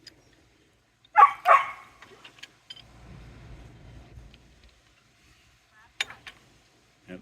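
Dogs on a rural property bark in two quick loud bursts near the start, then go quiet under a low rumble before a few sharper yips follow toward the end.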